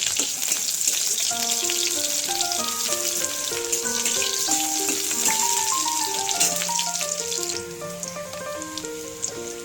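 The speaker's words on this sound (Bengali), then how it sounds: "সর্ষের তেল অ্যাড করার পরে পেঁয়াজ কুচি পেঁয়াজটাকে একটু ভাজা ভাজা করে নিতে হবে" Chopped onion frying in mustard oil for a gourd-leaf dish, a continuous sizzle under steady melodic background music, with no speech.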